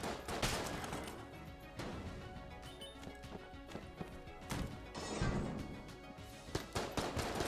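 Rapid gunfire in the video game Enter the Gungeon, dense bursts of sharp shots and impacts crackling over game music for several seconds.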